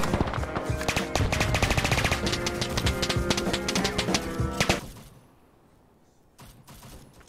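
A .50 cal machine gun firing in the ARMA 3 video game, with sustained loud rapid bursts that stop abruptly, leaving quieter ambience and a few distant shots.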